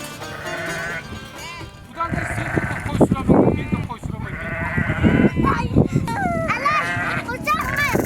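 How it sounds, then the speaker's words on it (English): Sheep bleating on a Kazakh family's grassland farm in Xinjiang, with several loud, wavering cries rising over the livestock and a voice talking nearby. "He just caught one of his sheep"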